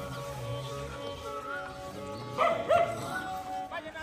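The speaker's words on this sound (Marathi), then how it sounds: "श्वान आहे तिथं मस्ती करताय" A dog at the entrance of the Kuravpur temple barks and yips a few times nearby, blending into ambient noise and faint voices.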